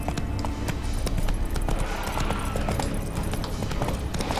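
Hooves of Roach, Geralt's horse in The Witcher 3, clip-clop in a steady galloping rhythm, close and loud throughout against a dense in-game background.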